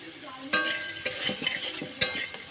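Salt being stirred into frying food in a pan for kangra tok, a steady sizzle with several sharp scrapes and knocks of a utensil, close and alone with no talk.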